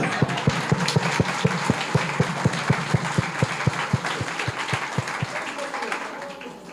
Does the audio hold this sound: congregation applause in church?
yes